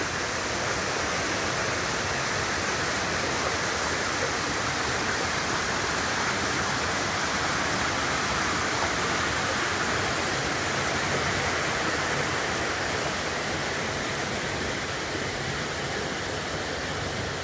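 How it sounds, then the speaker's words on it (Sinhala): Water from a jungle waterfall pours down as a stream, a steady, unbroken rushing roar that stays even throughout with no other sounds rising above it. "වතුර පාරත් මෙතෙන්ද සෙට් වෙනවා මේ දියැලෙන් එන පැත්ත මෙතනින් සෙට් වෙලා පහලට යනවා"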